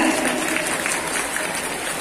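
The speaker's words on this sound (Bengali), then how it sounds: "সমস্ত শিল্পী তৈরি কারিগরদের জন্য জোরে একটা হাততালি হয়ে যাক" Audience applause at a dance academy performance in the Chandannagar Rabindra Bhavan hall, a continuous even wash of clapping from a crowd, moderately loud and sustained without a break.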